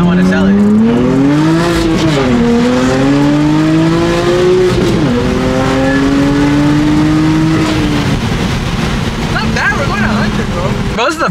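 BMW F80 M3 accelerating hard, its engine revving loud and close with rising and falling pitch through gear changes, a brief tire squeal, and people talking over it near the end.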